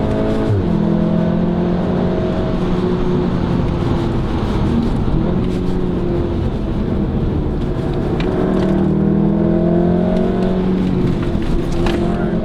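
A VW Golf R Mk7 hot hatch accelerates hard at full throttle, its engine note steady and loud throughout with rising and falling tonal sweeps as it pulls through the gears.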